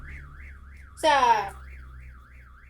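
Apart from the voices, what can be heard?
car alarm sounding outside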